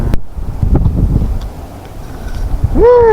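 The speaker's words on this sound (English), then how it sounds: "The wind is going at like about 35 kilometers per hour." Strong wind of about 35 km/h blows on a fishing boat on open water, roaring and buffeting the microphone in uneven gusts. A brief rising tonal whine appears near the end.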